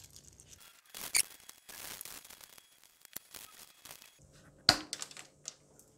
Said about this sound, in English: take a little bit of aluminum foil and place it on the threads